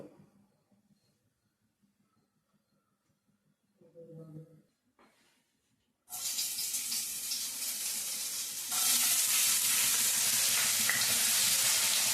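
Hot oil sizzling in a pan for a chicken and potato curry, quiet at first with a brief clatter, then a loud sudden burst of frying that grows even harsher partway through.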